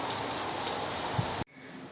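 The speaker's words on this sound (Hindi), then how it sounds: "नहा रही थी मैं और बारिश आ गई" Steady rain hisses down in a dense, even wash, fairly close, then cuts off abruptly near the end, leaving a much quieter background.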